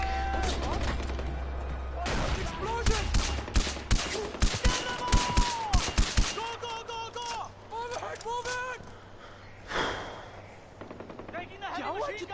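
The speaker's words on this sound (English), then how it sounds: "Where's that gunfire coming from?" Rapid bursts of gunfire in the video game Far Cry 4 crackle in irregular volleys, loud and close at first, with voices shouting over the shooting before it thins out.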